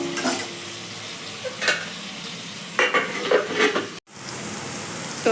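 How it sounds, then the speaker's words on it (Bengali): Potato pieces stirred and fried in a pan for a chicken and potato curry, a steady sizzle under bursts of scraping stirring, a brief cut near the end, no talking. "এইবার এই আলুটাকে আমি ভালো করে নেড়ে দিচ্ছি"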